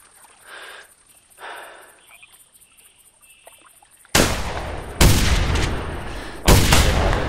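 Gunfire at mallard ducks in the hunting video game TheHunter, three loud booming shots in the latter half following quieter game ambience, each shot trailing off in a long echo.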